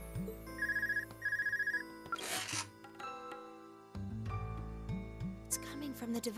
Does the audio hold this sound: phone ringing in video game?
yes